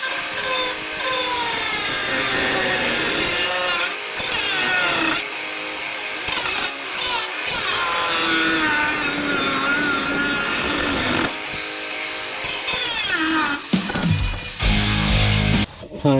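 Continuous harsh cutting and grinding as a metal grille is cut off a 1961 International Harvester B-163 bus, loud and steady throughout, with rasping strokes that shift in pitch before trailing off near the end.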